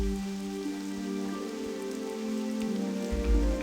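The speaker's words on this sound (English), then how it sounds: "It's raining in Ashenvale." Steady rain ambience in Ashenvale, a forest zone of World of Warcraft Classic, patters evenly on surfaces beneath low sustained music tones, with no voices present.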